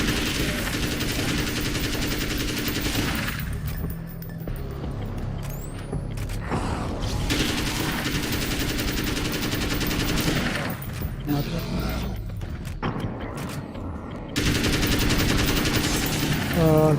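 Gunfire in the video game Alan Wake's American Nightmare: rapid bursts of shots and mechanical clacks come in clusters, broken by brief quieter gaps, loud and close throughout.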